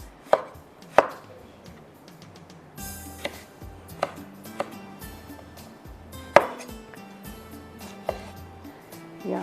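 A knife chops tomatoes against a cutting board in irregular sharp thuds, several distinct cuts spaced apart, close by in a quiet room.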